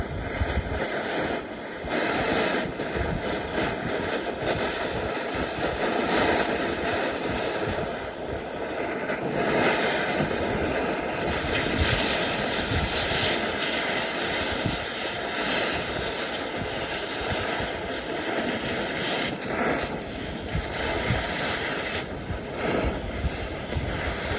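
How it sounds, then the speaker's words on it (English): A torch flame roars steadily and loudly while old oil is burned off an axle during a Gleaner R72 combine final drive rebuild, a continuous broadband rush that swells and fades slightly with no one speaking. "Nothing like having a nice flame rolling."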